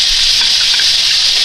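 Water gushes in a steady, loud hiss as it pours into a kitchen sink, continuous and close.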